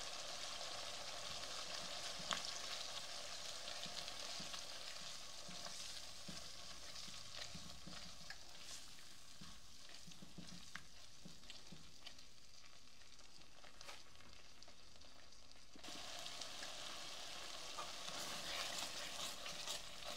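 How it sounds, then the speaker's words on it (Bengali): Spice masala for a rohu fish head curry frying and being stirred in a pan, a steady sizzle with spatula scrapes running throughout, briefly softening before the frying swells again, with no talk. "মশলাটা ভালো করে কষিয়ে নিচ্ছি"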